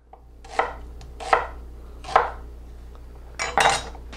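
A knife chops food on a board in five distinct, close strikes spaced roughly evenly, the last two coming in quick succession, with no talk.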